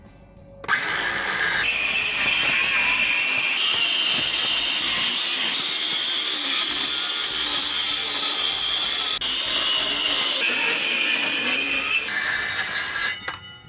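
A power saw makes a shallow plunge cut along a marked line on an old camper trailer wall, a loud continuous high-pitched whine starting abruptly and holding steady for several seconds before cutting off.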